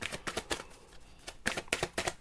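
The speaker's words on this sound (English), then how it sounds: "They need a bit of shuffling, so let's shuffle them a bit." A mermaid oracle card deck is shuffled by hand in quick, crisp riffling bursts and papery flicks, several in a row, close and quiet, with no talk.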